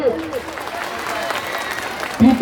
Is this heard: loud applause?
yes